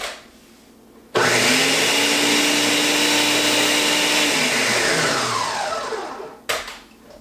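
A food processor mixing salt into a dough runs in one loud, close, continuous whir of about five seconds, then cuts off sharply. No voices.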